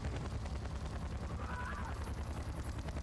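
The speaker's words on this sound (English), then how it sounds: "I'm already taking more rockets" Rocket hits striking a Blackhawk helicopter in a military video game, heard as a dense, continuous rumble of explosions and rotor noise at a steady, fairly loud level.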